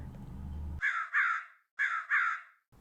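A crow caws loudly and close by, four harsh calls in two quick pairs with a short silence between them, following a low rumbling noise at the start.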